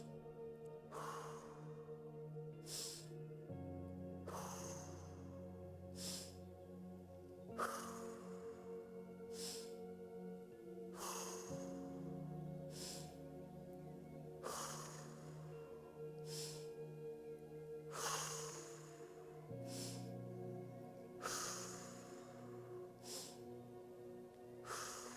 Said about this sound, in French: c'est parti, on inspire.